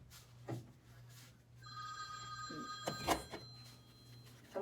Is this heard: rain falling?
no